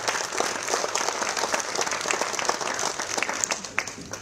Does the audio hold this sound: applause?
yes